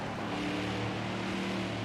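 A race car from the NASCAR Heat 5 video game at Martinsville Speedway gives a steady, muffled engine drone, faint and continuous with no talk.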